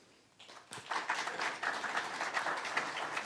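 Council-chamber audience breaking into applause, scattered claps building quickly into a steady, moderately loud round of clapping from a modest crowd.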